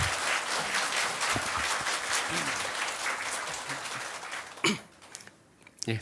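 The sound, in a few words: audience applause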